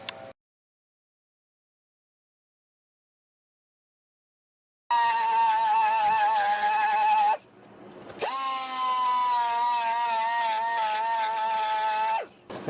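A rotary tool with a cutting bit grinding ports in Yamaha RZ350 cylinders, a loud high steady whine in two long bursts separated by a brief pause, close up with no talking.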